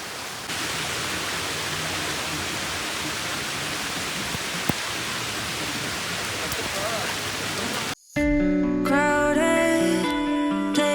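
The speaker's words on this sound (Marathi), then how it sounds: "आपण जसा जवळ जात चाललोय तसा पाऊस वाढत चाललाय" Rain grows heavier near a famous Maharashtra waterfall as a loud, steady broadband roar fills most of the stretch before music abruptly takes over near the end.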